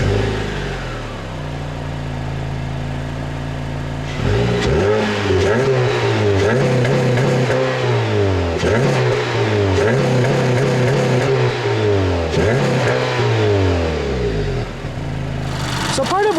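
The 2.4-liter double overhead cam four-cylinder engine of a 2015 Honda CR-V Touring idles and is then revved repeatedly in a series of rising and falling pulls, loud and close, with a voice talking over it.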